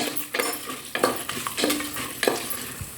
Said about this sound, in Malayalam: നമ്മൾ അതൊന്ന് നമുക്കൊന്ന് റോസ്റ്റ് ചെയ്തെടുക്കാം ഈ ഓയിലിനകത്തിൽ